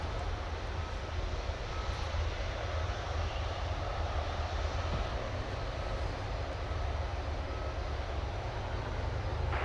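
A UPS heavy cargo jet takes off from runway 18 left at DFW, heard as a steady, broad engine roar and rumble that holds evenly for about ten seconds with no voices over it.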